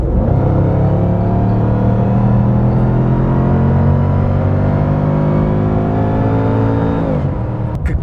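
Mercedes-Benz SLR McLaren engine holds a loud, close, steady rumbling drone that slowly rises in pitch as the car pulls, then drops off near the end, with no talk over it.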